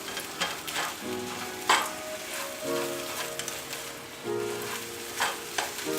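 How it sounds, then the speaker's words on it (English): Chorizo and egg frying in a pan while being stirred, a continuous close sizzle broken by scraping stirs, loud and steady with no voices. "chorizo with the egg, you just start mixing it up"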